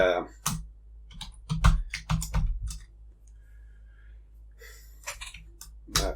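Code is typed on a computer keyboard in quick bursts of crisp, close key clicks separated by short pauses, with a few soft breaths and no talking.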